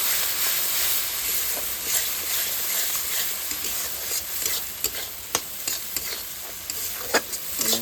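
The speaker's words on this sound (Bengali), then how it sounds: "এবার এটাকে ভালো করে নাড়তে হবে।" A spice mixture with cumin powder and a little added water stirred in a hot pan, steady loud sizzling and hissing with repeated scraping clicks from the spoon growing busier toward the end.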